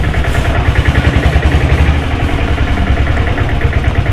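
A motorcycle engine idles in neutral close by, a loud, steady, rhythmic thrumming with even pulsing and no talking.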